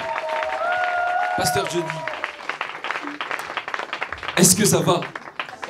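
A church gospel audience welcomes Pastor Johnny Aaron with mixed clapping and cheering, with someone speaking over the noise and a louder swell of cheers toward the end.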